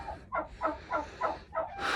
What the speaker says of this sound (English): Here's our turkeys.